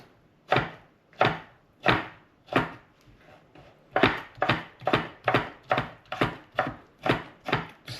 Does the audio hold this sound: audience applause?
no